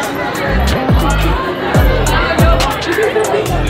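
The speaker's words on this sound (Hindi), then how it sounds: "बहुत भीड़ है देखिए" A dense crowd chatters at the exit of a Hindu goddess temple in Nepal, a loud continuous babble close around, with deep booming thuds like drumbeats or bells cutting through now and then.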